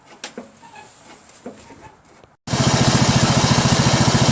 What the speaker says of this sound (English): the engine runs really nice